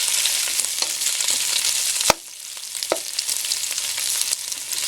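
Boiled chicken breast and pork fry in a pan for pancit bihon, a constant bright crackling sizzle up close, broken by one sharp utensil knock and a few lighter clinks, with no talking.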